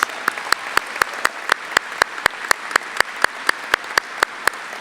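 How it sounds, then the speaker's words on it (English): An audience at a school honors show claps for school and pyramid winners, sparse, evenly spaced claps standing out over a steady room hum. "Let's give them a round of applause"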